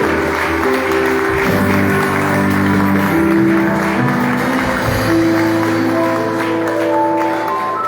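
A church congregation applauds over sustained keyboard or organ tones. The clapping is moderate and continuous beneath the steady music, with no speech.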